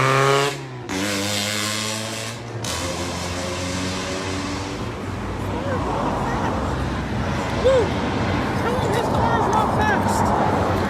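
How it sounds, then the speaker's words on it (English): A loud car engine revs on a Portland street during a protest, a strong droning roar at the start that gives way to crowd noise and nearby voices talking. "His car is just loud, not fast."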